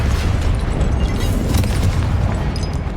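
A Confringo blasting curse explodes in the video game Hogwarts Legacy, giving a loud, sustained booming roar with deep rumble that fills the whole moment, with no voices over it.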